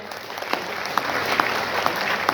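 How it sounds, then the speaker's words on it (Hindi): An audience at a Vestige business success-story talk breaks into applause, a fairly distant, even roll of many hands with a few crisp nearby claps standing out. "एक बार उनके लिए भी ताली हो जाए।"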